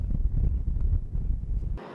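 Low, rumbling wind gusts buffet the microphone throughout, steady and blustery, cutting off abruptly near the end.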